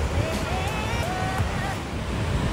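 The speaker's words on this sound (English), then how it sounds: "I just finished the photo shoot at this wonderful waterfall. This is Ithaca Falls." Ithaca Falls, a waterfall in Ithaca, New York, roars in a steady broadband rush on a freezing day, while a voice is faintly heard over the water.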